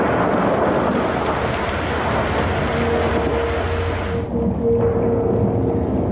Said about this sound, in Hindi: तूफान बहुत तेज है